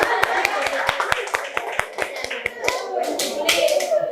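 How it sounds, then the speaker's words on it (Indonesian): A small group claps for Uli at a hikayat reading session, brisk rhythmic hand claps at close range with a few quick ragged ones near the end, while voices talk and cheer over them. "tepuk tangan dulu untuk Uli"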